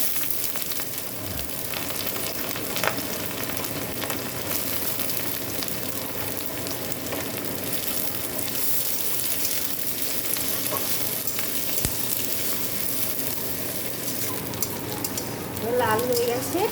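Chopped garlic and onion frying in a pan, a continuous close, even sizzle with occasional stirring clinks throughout.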